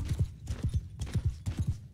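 Horses trot in the video game Mount & Blade 2: Bannerlord, their hooves giving a steady, close rhythm of paired clip-clop beats in a repeating gait with no talk over it.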